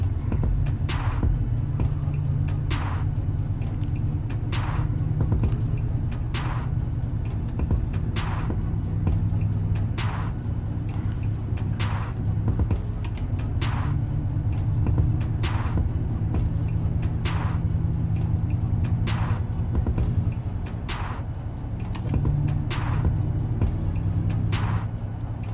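A car engine in the Gran Turismo 7 racing game drones steadily with a low hum, broken by regular ticking clicks that repeat roughly every second, like gear changes or track joints, loud and constant with no voices.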